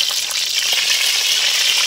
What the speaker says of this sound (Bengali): কপিগুলো ভেজে নেব